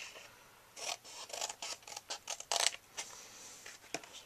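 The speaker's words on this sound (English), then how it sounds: "then I'm going to trim this little edge off" Scissors trim a small edge off paper while making a gift box, a quick run of close, crisp snips and rasping cuts in short bursts.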